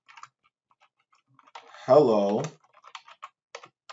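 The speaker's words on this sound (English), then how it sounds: "we can do that by typing print" Fingers tap on a computer keyboard in short, quick bursts of clicks before and after a brief spoken word, close and fairly crisp in a quiet room.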